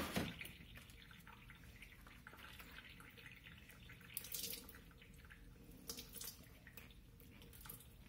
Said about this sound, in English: And then I'm just going to pour some water over the ring to try to get all of that soap off of it.